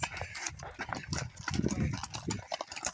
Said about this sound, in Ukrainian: Тут коні на будь-який смак.